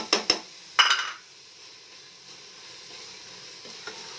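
Carrot halwa frying in oil in a pot, with a few sharp spoon scrapes and clinks in the first second, then a faint, steady sizzle that carries on alone.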